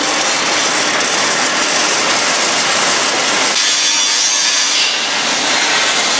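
A saw cutting roller pins in a boat trailer factory, a loud, continuous harsh grinding and rasping cut that runs throughout, shifting in tone partway through amid general workshop noise.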